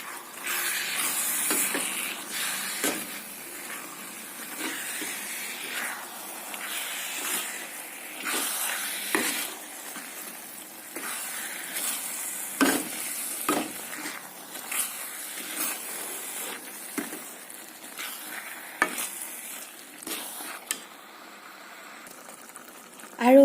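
A coconut and jaggery laddoo mixture is stirred in a pan with a soft, ongoing sizzle and intermittent scraping strokes spread over about twenty seconds, close but fairly quiet.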